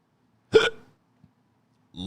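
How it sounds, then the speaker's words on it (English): One short, abrupt burp from someone drinking warm soda, loud and close in an otherwise silent room, followed moments later by the start of a voice speaking. "This soda makes me burp more when it's warm like this."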